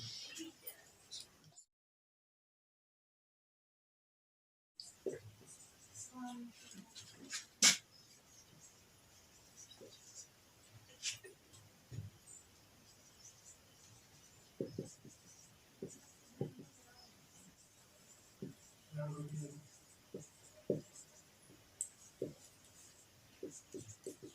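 A pen writes out an answer by hand for a Class 12 English lesson, with faint, irregular scratches and taps on paper spread across the clip and quiet speech at times.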